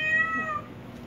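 A cat meows repeatedly with clear, tonal calls, close and fairly loud, while fish is handed out as a treat for the cats.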